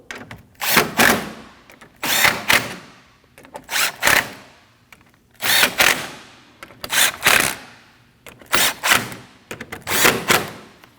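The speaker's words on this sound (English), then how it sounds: "Now you want to tighten all the 10mm bolts that are above your grill" Power tool driving 10mm bolts above the grill of a 2013-2019 Ford Escape 1.5L, loud close bursts of whirring and ratcheting in seven repeated runs with short pauses between, no talking.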